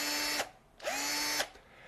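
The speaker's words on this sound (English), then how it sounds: "like my drill-powered rubber stopper here, the rotary work is done at a steady rate, so the drill is providing rotary power to the wheel." An electric drill spins a rubber stopper wheel in two close bursts, each whining up to a steady pitch and cutting off, with a short quiet gap between them.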